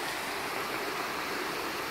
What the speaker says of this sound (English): We just came around the corner, and there is the waterfall.